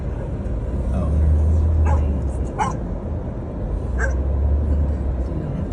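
A dog barks several times in short separate bursts from some distance, heard over the steady rumble of a car driving along a rural Missouri–Arkansas road.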